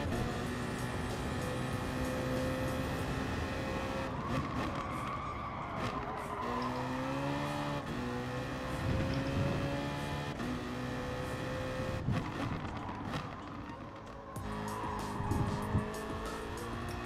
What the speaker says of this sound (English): The big BMW Z4 is a beautiful car to use,